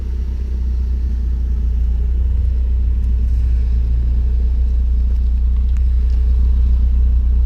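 A 1994 BMW 316i Compact with over 400,000 km, fully stock, is heard from inside while driving. Its engine gives a loud, steady, low rumble that holds for the whole stretch.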